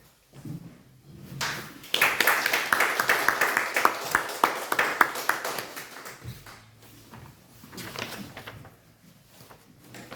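A seminar audience of older adults applauds to welcome a lecturer to the podium. Sparse claps build into a dense, loud burst that fades to scattered claps and room noise.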